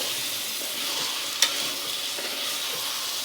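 Mutton gravy frying in oil is stirred in the pan, a steady close sizzle with faint scraping and one sharp clink of the utensil.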